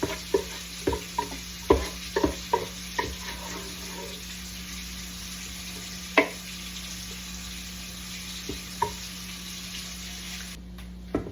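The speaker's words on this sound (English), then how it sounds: "Give that a nice stir around so you're getting all that sauce on there" Crab and shrimp being stirred through a Cajun seasoning sauce in a Ninja Speedi, with several sharp utensil clinks and scrapes early on over a steady low hum, then a few sparser knocks.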